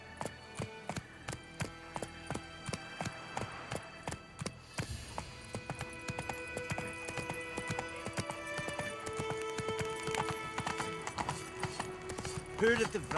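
In The Witcher 3, a horse's hooves clop in a regular, fast rhythm, clearer at first and then continuing under someone talking.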